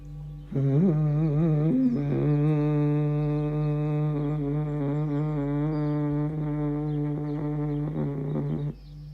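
A low, throaty hum voiced on a long exhale as a breathing exercise, deep vibration felt in throat and chest: one steady, close, buzzing tone held for about eight seconds, alone with no talk.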